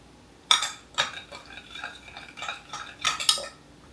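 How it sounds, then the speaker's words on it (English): A metal spoon clinks and stirs in a bowl as instant yeast is mixed into warm half and half, giving several sharp taps followed by lighter scraping, close and alone. "And to that, I'm going to add my instant yeast."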